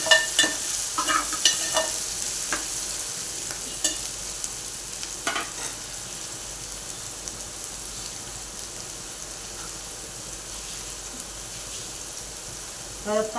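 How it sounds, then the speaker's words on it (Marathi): Dill greens, moong dal and onion stir-fried in a pan, giving a continuous crackling sizzle with clustered spatula scrapes early on. Occasional faint voices sit under the frying. "सगळं टाकून घेऊया आणि हे चांगलं परतून घेऊया।"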